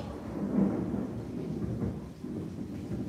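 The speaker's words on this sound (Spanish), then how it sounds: "Va a tronar otra vez, va a tronar porque se miró un relámpago." Rumbling thunder during a storm, a low continuous roll that swells early and holds steady with faint rain behind it, no voices.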